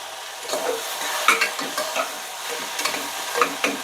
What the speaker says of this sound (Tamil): கொஞ்சமாக மஞ்சள் பொடி சேர்த்துட்டு நல்லா மிக்ஸ் பண்ணி விட்டுடலாம்